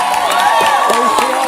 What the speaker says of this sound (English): round of applause for Mr. Kingham.